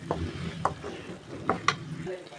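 Veldt grape pickle mixture frying in oil in a pan, a steady low sizzle broken by a few sharp scraping clinks of a stirring spoon, close and alone.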